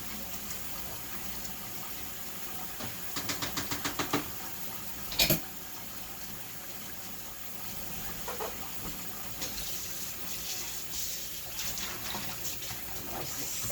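Tap water runs steadily into a kitchen sink while food debris is rinsed out, a constant close hiss with brief clatters and knocks from handling partway through.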